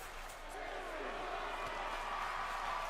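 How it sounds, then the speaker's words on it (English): A wrestling crowd at the first match of the night chants 'this is awesome' as a steady, loud roar of many voices that fills the whole clip. "This is awesome chant from the crowd in our first match of the night"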